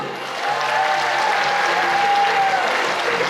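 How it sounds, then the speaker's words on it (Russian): Steady audience applause fills a gala concert hall, a dense even wash of clapping that swells in within the first half second and holds at full strength throughout, with a faint voice or tone drifting above it. "Аплодисменты!"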